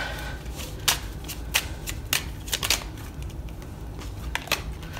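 Tarot cards shuffled by hand at a reading, with sharp papery riffles and snaps coming in irregular bursts, close and clear, and nobody talking.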